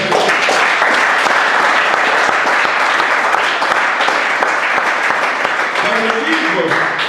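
A church congregation applauds, dense continuous clapping with cheering voices mixed in, loud and steady throughout.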